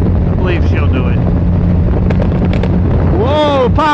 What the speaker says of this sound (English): Pops and bangs!